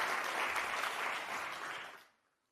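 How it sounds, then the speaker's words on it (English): An audience at a professional development conference session gives a steady round of applause, dense and sustained, then fading out quickly near the end. "Please give him a round of applause."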